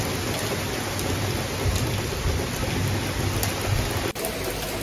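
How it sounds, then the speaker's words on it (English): Heavy rain pours down steadily in an urban Florida garden, a dense continuous hiss with low thunder rumbling underneath throughout. "It's raining, it's pouring"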